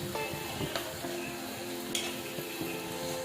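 Chicken with turmeric and garam masala fries in a pan for Chettinad pepper chicken gravy, giving a steady sizzle with occasional scrapes and knocks of the stirring spoon, close and unbroken by speech.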